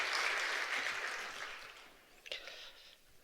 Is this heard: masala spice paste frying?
no